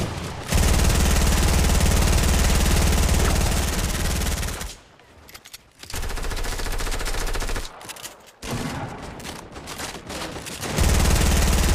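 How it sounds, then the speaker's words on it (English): Rapid automatic gunfire rattles in Fortnite Battle Royale, loud sustained bursts of shots broken by short pauses and resuming in long strings. "I'm shooting."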